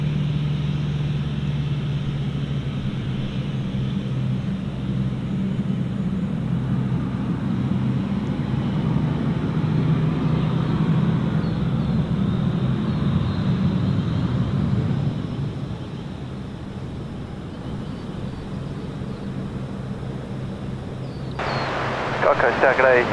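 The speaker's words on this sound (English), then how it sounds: "let's get this Virgin now departing here on runway 14 here at Gold Coast Airport" A Virgin airliner departs on runway 14 at Gold Coast Airport with a steady, broad jet roar and low rumble that swells in the middle, then eases. Wind buffets the microphone throughout.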